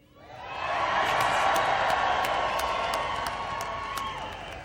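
Commencement audience up in the balcony shouting and cheering, swelling quickly into a loud sustained roar of voices and whoops that holds steady, then eases slightly.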